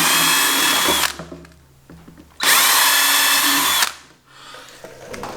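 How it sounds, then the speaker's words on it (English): A power drill bores out pre-drilled dimples in an AEV snorkel on a Jeep Wrangler JK in two loud, sustained high-pitched whirring bursts separated by a quieter pause, each ending abruptly. "so we're just going to drill those out."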